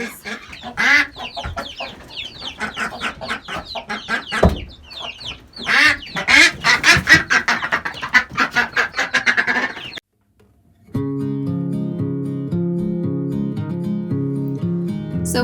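A broody duck and chickens in a winter coop cluck and squawk in a busy, close, loud jumble of short calls, then the birds fall silent and steady music takes over.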